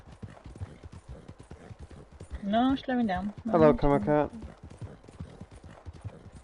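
A horse gallops in the video game Red Dead Online, rapid rhythmic hoofbeats running steadily throughout while someone talks over them in the middle.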